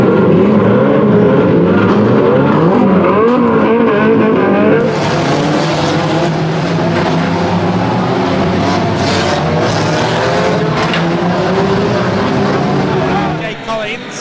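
Unlimited banger racing cars roar around a raceway as one spins out, a loud continuous engine drone with a commentator talking over it throughout.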